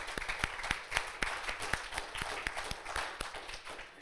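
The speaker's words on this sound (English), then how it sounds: "if we could just give a round of applause to the Chamber" An audience gives a round of applause to the Chamber at the M List arts innovation awards event, a faint, distant spread of clapping with evenly spaced sharper claps standing out throughout.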